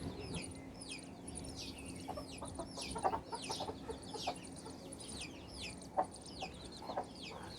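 A big date-coloured rooster clucks repeatedly in a farm setting, a string of close, throaty calls over a steady low background hum, with a couple of louder knocks and no speech.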